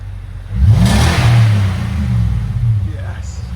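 Nissan Armada 5.6L V8 fitted with a Flowmaster Super 10 muffler revving up once, a deep, close exhaust rumble that rises and then holds at a steady drone, with a whoosh of air over it.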